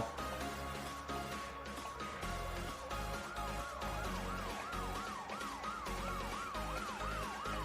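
A police car siren in Bus Simulator Indonesia wails in a rising-and-falling yelp over steady engine noise and background music, loud and close.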